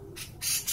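A myna bird gives two short, harsh squawks, close and fairly loud, separated by a brief pause, with no talking.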